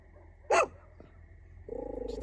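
A dog barks once, sharp and fairly close, beside a campfire at night, then a low rumbling motor drones in the dark background under a faint hum.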